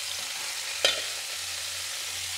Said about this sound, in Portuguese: Vou dar uma mexida nela aqui para você dar uma olhada.